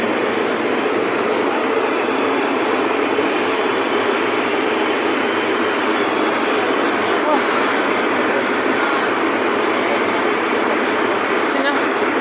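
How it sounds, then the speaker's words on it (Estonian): Loud, steady roar inside an airBaltic airliner cabin during descent to landing, a dense unbroken engine and airflow rumble heard close throughout. "me maandame kõrgelt juba selle lennuk nagu kuidagi viltu"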